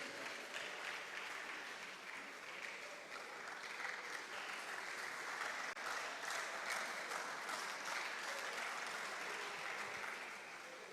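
Sustained audience applause fills the hall at a school public speaking competition semifinal as a performer walks up to the stage, a steady dense wash of clapping that holds at moderate level throughout.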